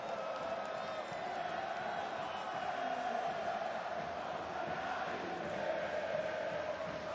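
Large esports arena crowd at the IEM Rio 2022 Counter-Strike event cheering and roaring in a steady, loud, sustained wash with no break.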